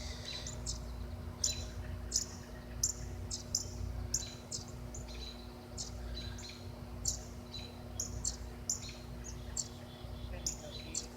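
Wild red birds call outdoors near a tree as the parents call to a stuck baby bird: quick, thin chirps repeat in bursts throughout, fairly distant over a steady low hum and hiss.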